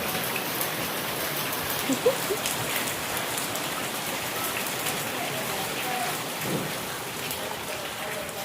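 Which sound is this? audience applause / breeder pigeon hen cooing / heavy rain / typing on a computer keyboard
heavy rain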